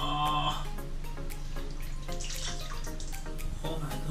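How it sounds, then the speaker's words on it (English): Hot water poured in a steady, close trickle and splash, running continuously for about four seconds with no talking. "So I made hot water."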